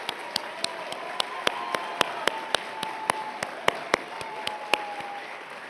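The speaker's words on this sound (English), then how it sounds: "please stand up so we can give you guys a round of applause" Sparse, scattered clapping from an audience at an annual awards gala, individual claps ringing out separately over a low room hum, never building into a full ovation.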